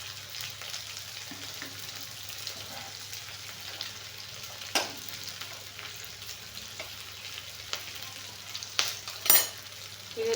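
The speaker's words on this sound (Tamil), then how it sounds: "இது தாளிக்கிறதுக்கு வந்து வரமிளகாய் போட்டுருவாங்க" Tempering spices frying in hot oil in a pan, a steady close sizzle and crackle with scattered pops and a few sharper spatters, no voices.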